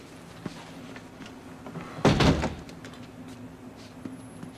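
An office door is pulled shut with one firm, solid thud midway through, set against a quiet room with faint background hum and a few small knocks.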